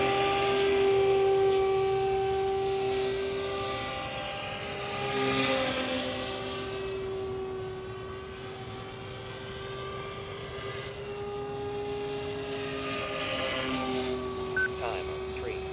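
A Goblin RC helicopter spinning up and flying after maintenance, a steady high-pitched rotor and motor whine that rises and falls in pitch as it moves, loud and continuous.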